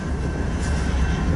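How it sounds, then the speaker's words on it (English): Loaded coal train rolls past on a mainline, a steady loud rumble of heavy cars with continuous wheel-on-rail noise and no voices. "a loaded coal train heading south on the St. Joe sub"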